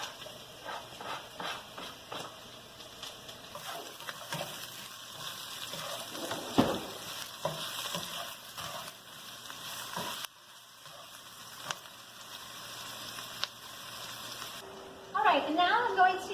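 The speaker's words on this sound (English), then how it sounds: "as we're sauteing, we're going to start with the onion" Chopped onion sizzles steadily in a hot pan at close range under a person talking, with a few stirring scrapes and a brief louder clatter near the end.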